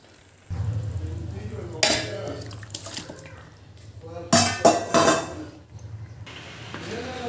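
Chicken goes into a hot frying pan for biryani, followed by close clattering and scraping of a spoon stirring against the pan, with a low sizzle between the knocks.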